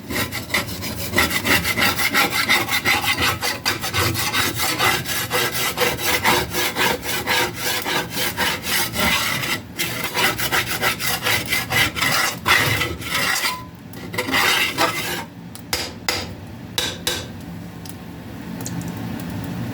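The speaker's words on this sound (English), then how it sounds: "you're going to slide it off the pan, and this is going to be a loud noise" Loud, rapid scraping and grating as something is scraped across a pan, rough repeated strokes continuing throughout with no voices.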